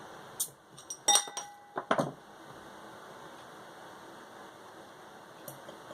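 A can of Tree Brewing Molta Bella espresso IPA is handled and opened with a few sharp clicks and clinks, then a quick metallic snap and fizz, followed by quiet background hiss.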